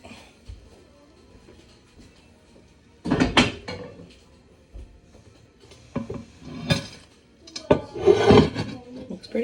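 Heavy Dutch oven lid lifted off a baked loaf of bread: a few close, clattering knocks and scrapes of metal, with pauses between and a busier rattle near the end, no talking.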